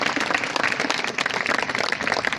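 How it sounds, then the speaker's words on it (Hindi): Loud crowd applause from village spectators honoring daughters of soldiers who won gold medals, dense continuous clapping close by with a bustling crowd underneath. "ताली लगाओ एक बार।"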